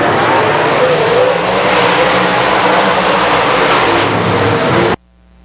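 An open wheel modified race car roars down the front straightaway at Lone Star Speedway during a heat race, a loud, continuous engine drone held for several seconds before cutting off abruptly.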